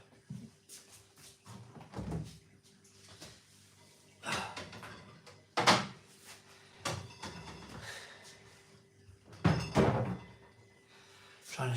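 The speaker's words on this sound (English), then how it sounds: "Trying to shut my fridge door." Someone repeatedly trying to shut a fridge door: a series of dull thumps and knocks spread unevenly over several seconds, close by and moderately loud, with faint rustling between the impacts.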